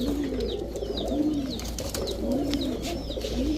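Male pigeons of fancy breeds cooing nearby in a few rising and falling rolling calls, with light chirps over a steady low hum.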